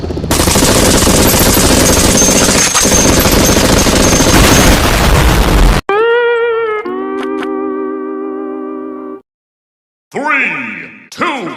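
A loud, dense burst of machine-gun fire rattles continuously for several seconds, then gives way to tonal, synth-like effects and a short pause.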